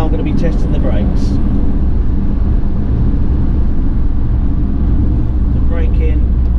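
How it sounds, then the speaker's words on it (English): Ford Transit tipper truck on a test drive, with steady loud road and engine rumble throughout as the van brakes, plus faint cabin noises and no clear talk. "And now I'm going to be testing the brakes."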